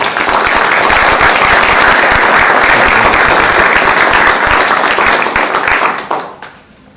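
Audience at a Wednesday Night Talk on nuclear fusion research applauding to welcome a lecture speaker, steady loud clapping from a crowd for about six seconds before it quickly dies away.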